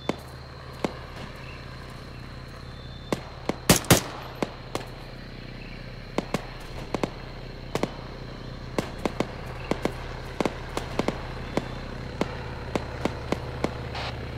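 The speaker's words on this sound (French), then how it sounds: "Il y a des coups de feu à l'ouest." Scattered gunshots from the video game Arma 3, in a jungle helicopter-assault setting: sharp, fairly distant cracks at irregular intervals, with a brief cluster of quick shots early on, over steady ambient background noise.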